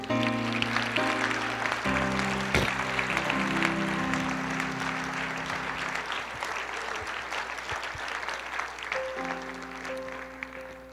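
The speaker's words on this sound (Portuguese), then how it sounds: "Aplauda o Senhor, querida." Church congregation applause during a sermon, sustained clapping from a crowd with a sustained musical tone, likely organ or keyboard, playing underneath throughout.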